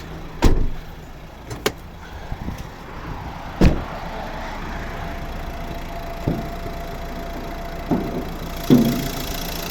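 A 2013 Renault Grand Scenic III's 1.5 dCi K9K diesel engine idles steadily with a low, even rumble, broken by a few sharp clicks and knocks. No voices.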